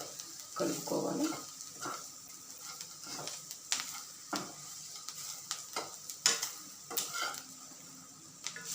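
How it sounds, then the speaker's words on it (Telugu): Onions and bitter gourd fry in a pan, a steady sizzle broken by repeated stirring scrapes and clinks of a spoon against the pan, close and moderately loud with no talking. "ఈ ఆనియన్స్ ఇలా వేగగానే ఈ కాకరకాయని దీంట్లో వేసేస్తున్నాను."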